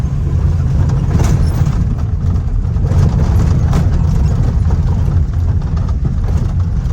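A vehicle, probably a farm truck, pulls in and parks beside a trailer at a field-edge tree line during potato farm work. A steady, loud low engine rumble runs throughout with no talk.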